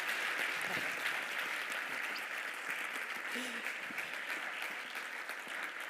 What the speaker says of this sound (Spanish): un aplauso para estas 3 personas que nos han acompañado